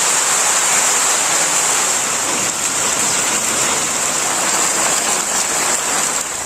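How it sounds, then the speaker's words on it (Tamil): Moderate drizzle-like rain falls steadily over Tirunelveli, a dense continuous hiss that stays loud and even throughout with no voices. "திருநெல்வேலியில் மிதமான சாரல் மழை பெய்தது."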